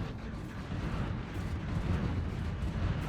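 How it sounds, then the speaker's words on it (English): Cruisers fire large lasers during a fleet battle in the space strategy game Stellaris, producing a dense, rumbling, crackling barrage with booming low end that stays steady and heavy throughout. No speech is heard. "So you can see my cruisers opening up with their large lasers."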